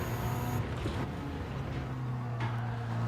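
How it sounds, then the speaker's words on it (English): A race car engine in Gran Turismo 7, heard with the music muted: a steady, fairly quiet engine drone with sustained tonal hum and a few shifts in pitch, with no voices. "We'll mute the music as well so you can hear the car cleanly."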